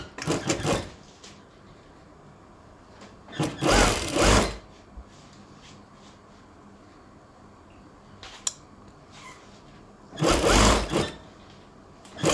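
Sewing machine stitching a half-inch seam on a baju kurung, a Kedah-style Malay garment. It runs in three short separate bursts with long quiet gaps between them, close by and moderately loud.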